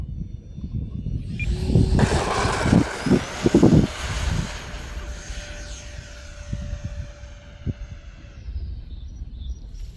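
Eflite F-15 Eagle 64mm electric ducted fan model jet flying overhead, a rising whooshing whine that swells loud then fades as it passes, with outdoor background noise and a few clicks.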